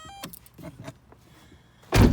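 Electric power window motors of a 2001 VW Cabrio whir in a few short bursts up close, followed by a sudden loud thump like a door or window closing at the end.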